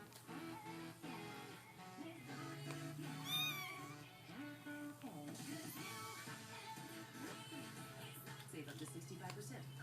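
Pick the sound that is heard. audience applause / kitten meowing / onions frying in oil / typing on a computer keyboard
kitten meowing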